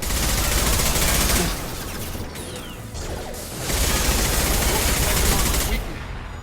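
Sustained automatic gunfire firing armor-piercing rounds in the video game Mass Effect 2, two long dense bursts with a brief lull between them, loud and mixed with game effects.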